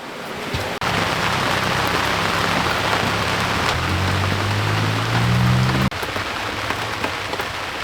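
Steady rain pours onto a sailboat at sea during a thunderstorm warning, a dense, loud, close hiss of drops on the deck and surfaces, briefly cut off near the start and again near the end, with no voices.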